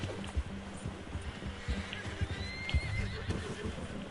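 Horse whinnying in Red Dead Redemption 2, with repeated hoof clip-clops and low thuds, close and fairly loud over a busy game soundscape.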